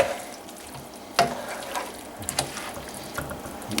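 A pot of imitation king crab legs being stirred, giving soft wet sloshing with a sharp clink of the spoon against the pot and quieter scrapes afterward.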